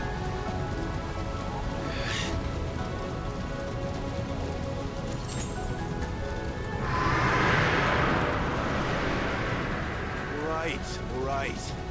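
Steady rain falls in Final Fantasy XVI, a constant hiss of drops on surfaces, swelling briefly louder midway, with distant rumbles and speech-like sounds mixed in.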